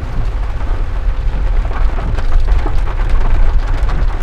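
Steady heavy rain pours down in a forest, a dense continuous wash with scattered nearby drops and patters, loud and unbroken throughout with no voices.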